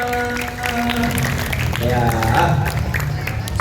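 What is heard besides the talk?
audience applause for a student performer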